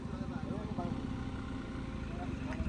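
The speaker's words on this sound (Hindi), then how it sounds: "बिल्कुल सुपर बाइक ज्यादा साउंड आ रहा है" A superbike-style motorcycle engine runs with a low, pulsing rumble close by, its throb steady throughout while people talk over it.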